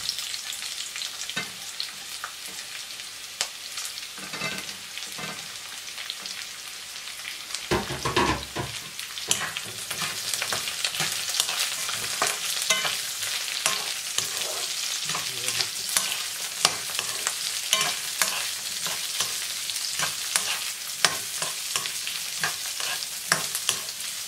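Large-cut garlic and onion sauté in a hot pan, a bright continuous sizzle with frequent stirring scrapes and clicks, steady and close throughout with no talking.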